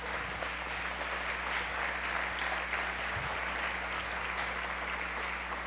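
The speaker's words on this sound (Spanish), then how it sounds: "denle un aplauso a nuestro Rey" A church congregation applauding during a Sunday service, steady sustained clapping throughout over a low constant hum, moderately distant with no clear talk.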